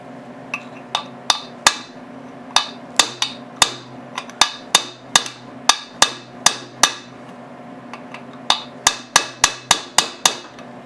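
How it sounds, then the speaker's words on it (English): Repeated heavy hammer blows ring out on metal, sharp and close, in irregular bursts of two or three strikes with brief pauses between, striking a part of a seized Briggs & Stratton engine. "Try a heavier hammer here."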